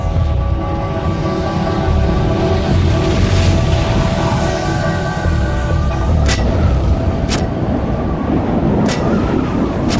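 Deep, rumbling booms from the 1883 Krakatau volcanic eruption roll under a constant roar of wind and noise, with a few sharp distant cracks near the end.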